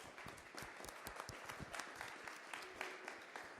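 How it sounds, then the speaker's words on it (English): An audience at a security meetup gives a round of applause for volunteers, a dense, steady patter of many hands clapping that continues evenly throughout, heard at a distance and fairly quiet. "Please, a round of applause for our volunteers every month."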